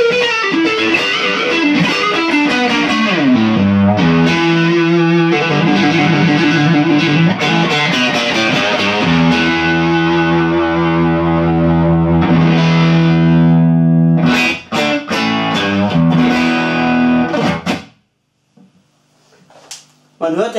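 A heavily overdriven guitar amp channel, comparing a GrooveTone HotRod with a Fender Hot Rod Deville, plays loud sustained distorted chords and riffs for most of the stretch, then drops to a brief quiet pause before a final strum.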